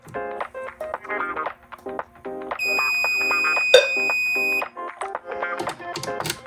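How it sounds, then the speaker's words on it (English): Low frequency fire alarm sounders let out a short, shrill, steady tone for about two seconds while the panel resets at the annunciator. Murmured talk and clicks come before and after it. "The low frequency sounders do that when it's on resetting."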